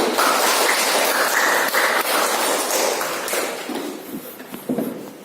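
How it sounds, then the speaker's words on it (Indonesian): A classroom of students claps for a classmate, dense and fairly loud rapid applause that thins out and fades toward the end. "Tepuk tangan untuk Ali."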